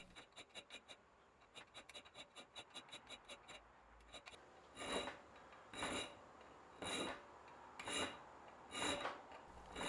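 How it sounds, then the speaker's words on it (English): A small round chainsaw file rasps against knife steel in quick, regular strokes, then shifts to slower, longer and louder scraping passes, close up with no talking. "Then I'll use this small chainsaw file to enlarge each point"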